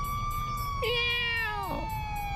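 A cat meows during a firefighter tree rescue, one clear drawn-out meow rising then bending down, over a low hum of background noise, with a faint siren-like tone running underneath.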